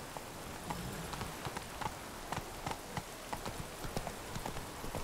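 In The Witcher 3, the horse Roach trots with faint, rhythmic clip-clopping hooves under a soft wash of rain.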